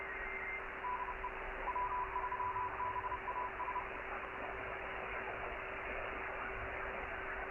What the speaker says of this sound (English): That's what like radio white noise sounds like